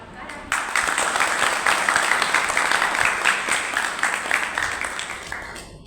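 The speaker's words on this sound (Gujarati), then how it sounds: "આપણે સાહેબશ્રીને તાળીઓથી આવકાર આપીએ." An audience applauds to welcome a guest at a school education event, a dense, sustained round of clapping that begins abruptly and carries on at an even level.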